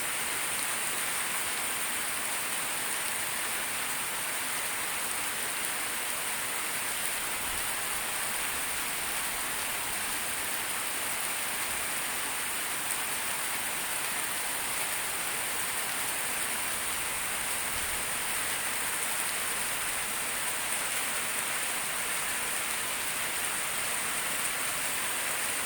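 Heavy rain pours down steadily, a dense, unbroken hiss of drops drumming on surfaces nearby, with no voices, holding an even roar from start to finish.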